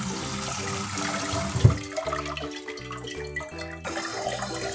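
Tap water running and splashing over cooked pasta in a kitchen sink to cool it, a continuous close pour with soft clatter, heard under background music.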